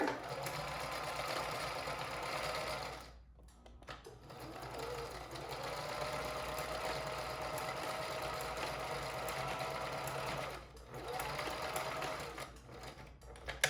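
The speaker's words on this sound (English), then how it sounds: "This sewing machine does have issues where the tension would start tightening by itself" A sewing machine hums and stitches in steady runs, briefly stopping twice before starting up again, close and moderately quiet.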